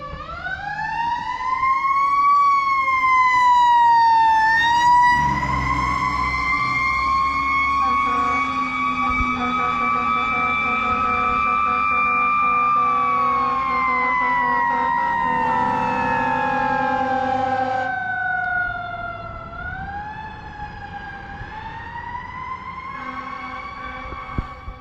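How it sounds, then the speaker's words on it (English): A fire truck siren wails past on a road in Maine, loud and near, its pitch rising and sweeping in long slow cycles, then dropping as the truck moves away, with engine rumble underneath. "So we'll wait for this fire truck to go by."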